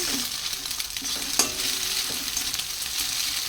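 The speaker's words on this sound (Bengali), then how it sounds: "দেখো পেঁয়াজ, লঙ্কা আর ডিম দিয়ে এই যে ভাত ফ্রাই করবো, সেই জন্য এগুলোকে ভালো করে ভেজে নিচ্ছি।" Onion, green chilli and egg frying for fried rice in a village home kitchen: a steady, close hiss of sizzling oil with one sharp utensil clink partway through.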